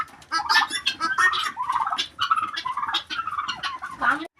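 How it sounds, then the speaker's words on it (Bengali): Turkeys gobble loudly and repeatedly on a poultry farm, several birds calling in quick overlapping bursts close to the microphone. "টার্কি মুরগি।"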